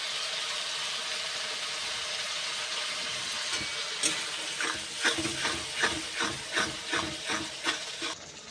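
Ground spice paste with Kashmiri red chili fries in a pan under a steady hiss, then a spatula scrapes through it in a regular back-and-forth rhythm, close and fairly quiet.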